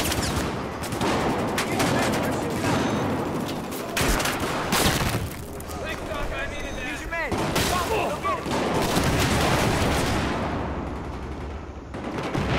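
Dense Battlefield 4 gunfire: rapid automatic bursts and single shots crackle continuously, near and far, with booming impacts, under intermittent talk, across a busy close-quarters match on a snowy map.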